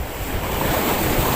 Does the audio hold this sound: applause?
no